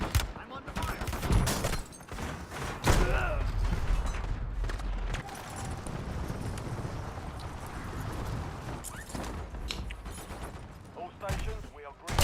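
Video game gunfire crackles in rapid bursts and volleys, with mechanical clatter and effects mixed in, continuing fairly loud under speaking voices throughout.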